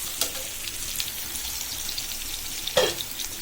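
Raw mango, taro stolons and prawns coated in spices drop into a hot pan over fried onion, garlic and green chillies, giving a soft steady sizzle with a couple of sharp clattering hits as the food goes in.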